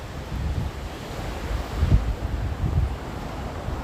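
Big ocean waves surge and crash at Soup Bowl, a surfing break on the coast, in a loud, continuous rumbling wash with strong wind buffeting the microphone and a couple of heavier surges, with no talking.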